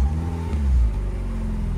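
Car engine revving, recorded close at the exhaust: a throaty, rumbling surge that swells and then settles back to a steady low idle, loud and near with no talk.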